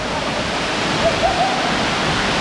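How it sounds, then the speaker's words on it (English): A waterfall among smaller creeks in the Philippines gives a steady, dense roar of rushing water that fills the scene evenly, with faint high chirps briefly rising above it. "It's like smaller creeks and waterfalls."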